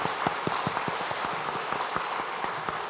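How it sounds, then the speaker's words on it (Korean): A church congregation claps during a Sunday worship service, a dense, steady patter of many hands with sharper individual claps standing out, heard from within the hall at moderate level. "우리가 박수로 함께 환영하도록 하겠습니다"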